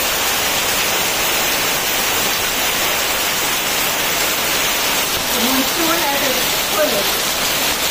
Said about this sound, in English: it's raining hard now, as I've tried to capture on my video